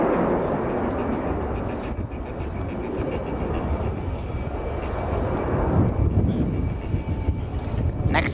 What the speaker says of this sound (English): Next, a sensor loop is going to highlight the Typhoon's trademark canard delta design.